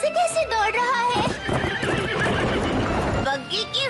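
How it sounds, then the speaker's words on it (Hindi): A horse pulling a carriage whinnies loudly several times while hooves clatter rapidly in a fast galloping rhythm, close by, with voices speaking over it. "ये घोड़ा खुद से कैसे दौड़ रहा है?"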